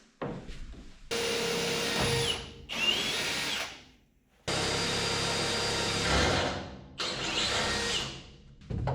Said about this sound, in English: I'm basically just gonna start screwing everything down